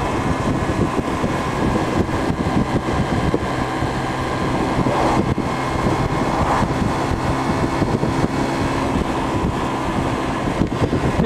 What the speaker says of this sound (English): It's a little bit windy today, I don't know whether the mic's picking that up.